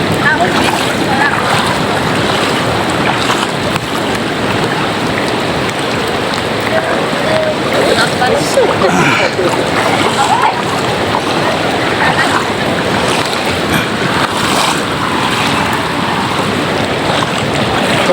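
Rough sea waves and wind batter a small boat crossing toward an island, a loud, unbroken wash of surf and spray right at the hull with gusting wind, and voices speaking now and then beneath it.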